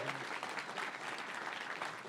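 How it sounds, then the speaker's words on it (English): Audience applause at the finale of a marathon gaming event, a steady sustained clapping from a crowd that fills the space evenly from start to finish. "please give him a round of applause"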